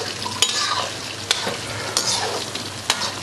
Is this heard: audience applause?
no